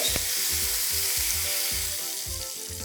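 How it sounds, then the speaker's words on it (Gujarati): Mustard seeds and asafoetida fry in hot tempering oil for curd rice, a steady bright sizzle close by, with faint low knocks recurring underneath. "આપણે એમાં રાઈ નાખીશું."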